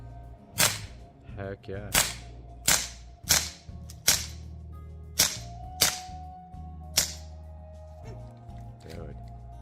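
A replica Glock 9mm pistol fired in a rapid mag dump outdoors, about nine sharp cracks at a quick, slightly uneven rhythm, with voices and a barking dog in between.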